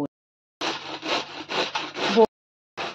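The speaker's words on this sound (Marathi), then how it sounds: "भोपळा आपल्याला शिलून आणि किसून घेत आहे मी व्यवस्थित." Bottle gourd being grated by hand for thalipeeth, a run of rhythmic scraping strokes close up, five or six rough passes in quick succession with a brief pause before another starts.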